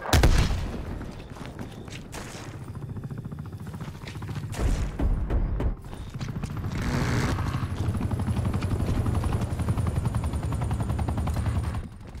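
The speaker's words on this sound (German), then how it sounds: "Kommando, Kampfhubschrauber-Einsatz starten." An attack helicopter gunship rumbles in Call of Duty Black Ops Cold War team deathmatch gameplay, its rotor drone steady underneath rapid bursts of machine-gun and cannon fire and occasional booming impacts.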